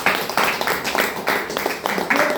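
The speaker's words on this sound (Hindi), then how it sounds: "आशीष सर के लिए जोरदार ताली लगा दीजिए।" An audience claps for Ashish sir at a DXN wellness gathering in steady, rhythmic bursts that repeat about every third of a second, with no voices over it.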